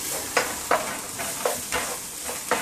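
Onions fry in a pan under a continuous close sizzle, broken by six or so regular scraping stirs spaced about a third of a second apart.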